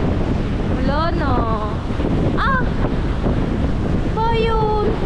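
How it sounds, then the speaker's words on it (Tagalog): Ocean waves and gusting wind roar steadily along a storm-eroded shore where boats have been damaged, loud and constant, with wind buffeting the microphone and voices heard briefly over it. "Ito na dagat to, mga kapings."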